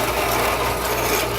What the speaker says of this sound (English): copper cuts pretty nice though